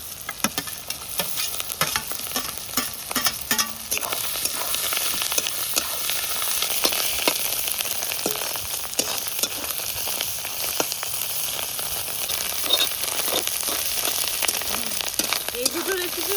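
Chopped fish roe and fish frying in a pan, a continuous close sizzle and crackle with repeated scraping stirs and clinks of the spatula against the pan.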